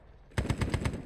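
Rapid automatic gunfire in the military shooter ARMA 3, a tight burst of about six evenly spaced, close, loud shots after a moment of low background noise.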